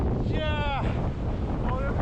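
Strong wind roars outdoors on a Gothenburg waterfront, buffeting the microphone steadily throughout. Brief whistling tones rise above the gusts and a voice is heard faintly.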